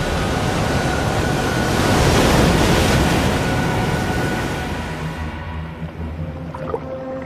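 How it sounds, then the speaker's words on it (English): Huge ocean waves churned by storm winds roar as a broad, loud wash of surf. The roar builds, then recedes, leaving a quieter, lower rumble at the end. "200-mile-per-hour winds and 75-foot waves will churn the massive ocean."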